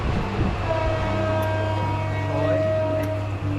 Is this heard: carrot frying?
no